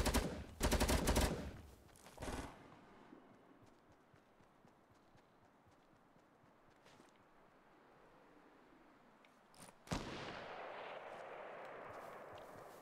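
Bursts of gunfire in the Fortnite battle royale video game: a loud rapid cluster of shots near the start, scattered fainter pops through the middle, then another sharp crack followed by sustained noise.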